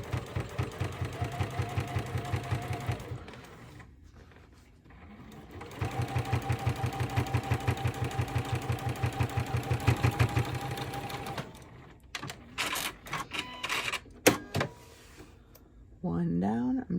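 A sewing machine stitches a zippered pouch in two long steady runs of rapid rhythmic needle clatter, with a short pause between them, followed by scattered clicks and handling noises near the end.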